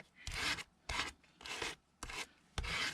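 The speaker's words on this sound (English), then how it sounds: "Let's get all that excess wax off, and I'll try to scrape it actually more toward the bottom" Wax is scraped off a craft card, sounding as five rough, raspy strokes in a steady back-and-forth rhythm, close and moderately quiet, with brief pauses between scrapes and no talking.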